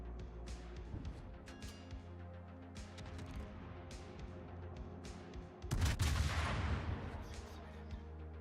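Naval gunfire in World of Warships: scattered distant booms and shell impacts over a steady low rumble of game audio, then a loud, dense volley of crashing blasts near the end.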